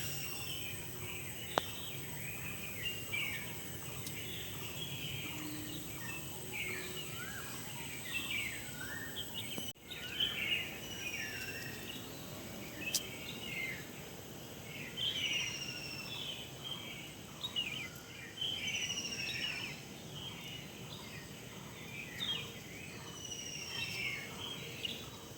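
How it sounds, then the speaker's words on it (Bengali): Many birds call and chirp all around before sunrise in a rural Bengali garden with flowers blooming, a dense steady chorus with repeated high whistles and insects buzzing faintly beneath. "কি সুন্দর লাগছে চারিদিকে পাখির ডাক"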